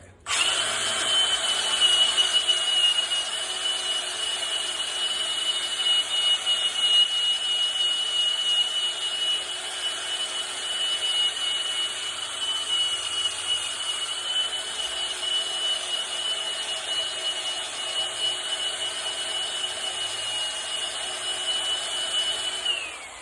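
A rotary polishing wheel buffs metal to a shine, giving a steady, loud motorized whine with a high-pitched tone that runs unbroken throughout, with no talking.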